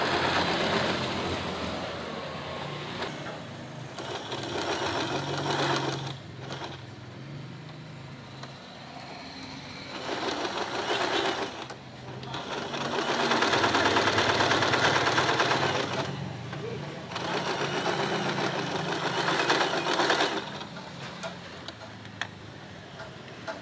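Portable sewing machine stitching fabric for a cheongsam-style gamis, a rapid ticking mechanical whir in bursts that start, pause and restart at moderate volume.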